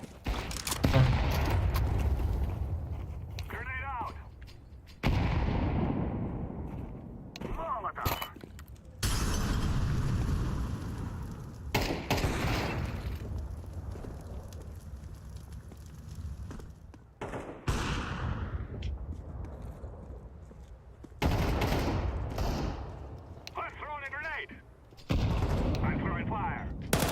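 Grenade blasts and rapid rifle fire in the shooter game Counter-Strike 2, loud bursts of shots and booms in repeated clusters separated by brief lulls, with players talking over parts of it.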